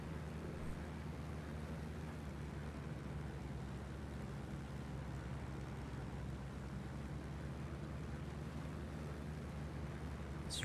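A vehicle engine runs steadily in Ghost Recon Wildlands, a continuous low droning rumble with wind-like noise, moderately quiet and unbroken throughout.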